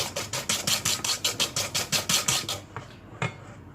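A whisk beats sugar and egg yolk in a bowl with about a dozen quick, even scraping strokes, then stops, leaving a couple of lighter taps and clinks.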